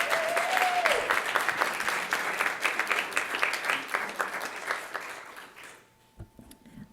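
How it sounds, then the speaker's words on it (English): Sustained applause from an audience at a school district board meeting, steady for about six seconds before thinning out into scattered claps and quiet room noise; a brief voice is heard near the start. "Let's give them a round of applause."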